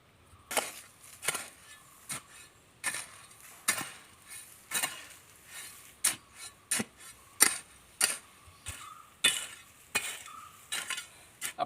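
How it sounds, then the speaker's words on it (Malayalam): Wood ash being mixed into soil by hand for planting nendran banana, a series of distinct scraping, rasping strokes at a regular rhythm, fairly close and unaccompanied by speech. "ഇനി ഇത് മണ്ണുമായിട്ട് നമുക്ക് ഒന്ന് കൂട്ടി ഇളക്കണം"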